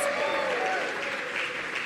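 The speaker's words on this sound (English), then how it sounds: "Let's give Sean a big round of applause." Audience applause at a DC Mayor's event on Metro late-night service, a brief moderate burst of clapping with a voice over it.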